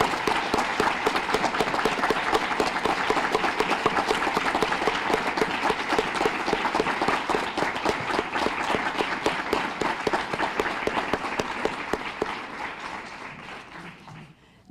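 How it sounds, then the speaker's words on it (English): Lecture audience applauds a distinguished alumni award winner with a long, steady round of clapping, crisp and individual claps audible, that gradually tapers off near the end. "please join me in a round of hearty applause for Dr. Dorothy Pearson"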